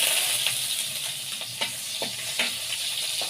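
Garlic hits a hot pan for pork adobo and sizzles loudly, a bright hissing fry punctuated by several sharp crackles and spatters, close up with no talking.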